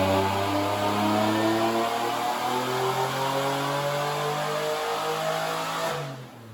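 Supercharged 3800 V6 in a Fiero held at high revs on a dyno, a loud sustained engine roar with harmonics slowly shifting downward, then dropping off sharply near the end.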